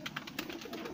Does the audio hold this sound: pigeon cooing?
yes